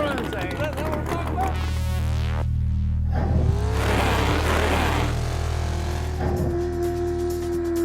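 A pulling tractor powered by a stock small block Chevrolet engine roars and revs loudly nearby, rising and falling in pitch, while people talk and shout over it.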